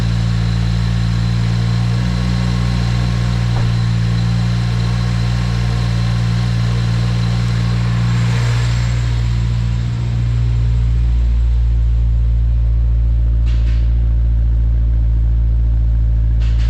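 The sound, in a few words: Subaru WRX 2023 engine running on a dyno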